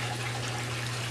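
Water from a siphoned 55-gallon rain barrel trickles steadily onto garden plants, a continuous close, broadband splashing wash with a low steady hum beneath and no voices.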